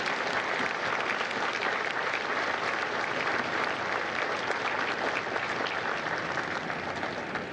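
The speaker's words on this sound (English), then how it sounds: "join me in a well-deserved round of applause for the drill instructors and the families of Charlie Company" A large crowd at a U.S. Marines recruit graduation at MCRD San Diego gives drill instructors and families a dense, continuous round of applause, loud and even throughout.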